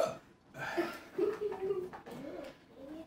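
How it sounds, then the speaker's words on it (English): A person hiccups after eating the Paqui One Chip Challenge spicy chip: short voiced catches close to the mic, mixed with faint laughing vocal sounds. "I get the hiccups when I use spice."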